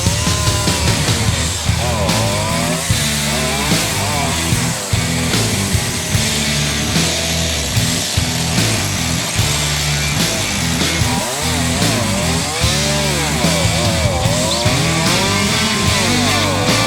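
A chainsaw roars loud and close while cutting branches during road construction, its revving rising and falling through repeated cuts with no talk.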